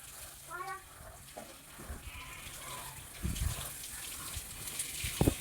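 A pet dog named Blackie being bathed, with water splashing and gushing in irregular bursts, a few louder splashes near the end, and animal-like bleats plus faint background voices in a domestic setting.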